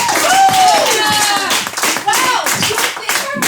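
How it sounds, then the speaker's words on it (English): A live audience claps and cheers for a guest being welcomed at a countdown show, a dense, steady burst of applause with voices whooping over it throughout. "can we please have a big round of applause for Amanda Giobbi."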